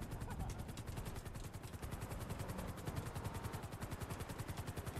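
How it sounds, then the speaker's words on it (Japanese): Helicopter in a GTA roleplay game, its rotor pulsing steadily and loudly throughout with a dense, continuous chop. "ヘリの運転もうまい。"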